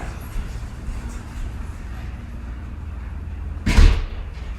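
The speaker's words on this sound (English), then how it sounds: "Hold on, close the door." A door closes once with a soft slam partway through, a single short thud standing out against steady low room noise.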